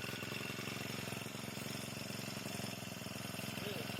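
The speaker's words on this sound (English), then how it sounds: "We confirm the engine is idling" A Sharp Garuda power sprayer engine idles with a steady, low-level rapid chugging throb, constant throughout with no revving.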